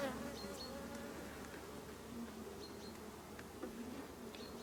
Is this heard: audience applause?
no